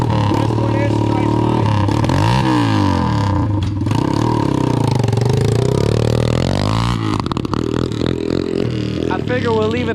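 A stock Chinese pitbike with its exhaust off runs on a test ride, its loud raspy engine revving up and down continuously with rattling clatter throughout, close up.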